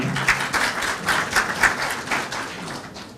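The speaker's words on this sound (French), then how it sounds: "Puisqu'il s'agit d'applaudissements" A modest round of applause from a conference audience, rhythmic clapping that rises in pulses and gradually fades out over a few seconds.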